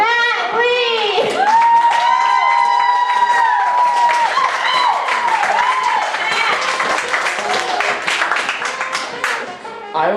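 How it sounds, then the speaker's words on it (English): Audience clapping and cheering for the first poet at an open mic poetry slam, a sustained burst of applause through the whole stretch, with a voice speaking over the start. "I need you all to clap for our first poet to the mic, Matt Lee!"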